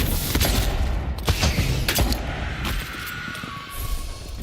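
Pistol shots ring out in the fantasy video game Avowed, a rapid burst of sharp cracks and booms in quick succession, loud and close, mixed with combat clatter and no speech.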